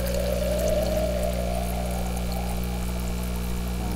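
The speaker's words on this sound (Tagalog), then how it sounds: "So, ngayon lagyan natin ng tubig." Water pours steadily into a brine shrimp hatching container for about four seconds, a continuous close splashing rush over a low, constant mechanical hum.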